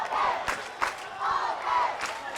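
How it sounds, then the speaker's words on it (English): Home crowd at a Chapman vs Whitworth college football game chanting and cheering for the offense, rising and falling in rhythmic swells with sharp accents, a broad distant stadium roar. "an offense cheer coming here from the home crowd"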